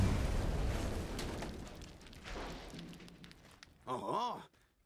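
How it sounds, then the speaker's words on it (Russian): A deep, rumbling explosion in the video game Borderlands booms at the start and slowly fades over several seconds. A brief voice follows near the end. "Взрыв даже здесь было слышно."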